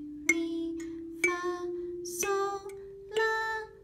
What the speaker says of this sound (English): And on the kalimba, it actually sounds like this.